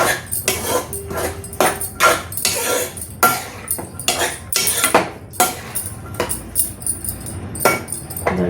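A ridge gourd and chana dal curry being stirred in a pan, with loud, rapid metallic scrapes and clinks of a spoon against the pan, repeating in an uneven rhythm close by; no voices.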